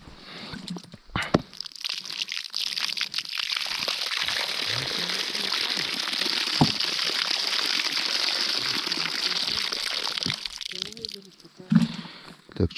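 Fresh water pours and sloshes into a live-bait bucket out on first winter ice, a steady close gushing splash lasting about ten seconds, with brief bumps and someone talking at the start and end.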